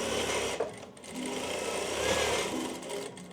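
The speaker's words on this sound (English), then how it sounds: "sew the 2 sides together, right side to right side" A sewing machine joins two pieces of shirt fabric, right sides together, for a tote bag, a close, steady mechanical whirring that briefly pauses and then resumes.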